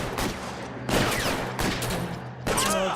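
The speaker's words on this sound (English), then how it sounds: "They're shooting." Repeated bursts of gunfire from the video game L.A. Noire, loud and dense, with several volleys of shots layered over a steady game background.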